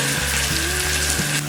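Chopped onions, spring onion greens and other vegetables fry over medium to high flame, a loud dense sizzle with a low rhythmic hum running beneath it.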